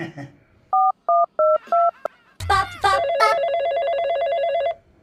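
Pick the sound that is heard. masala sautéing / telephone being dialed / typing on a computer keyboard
telephone being dialed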